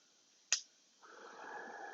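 A DJI camera port door snaps shut with a single sharp click, followed by a soft, faint rustle of handling.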